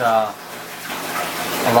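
Water rushes hard from a Danner high drive 4800 pump into a 1210-gallon DIY plywood aquarium system, a steady turbulent gush, with a voice heard briefly at the start and end.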